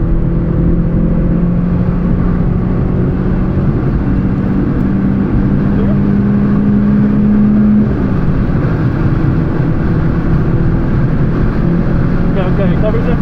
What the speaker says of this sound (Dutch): Ja, nu, we gaan op volgas.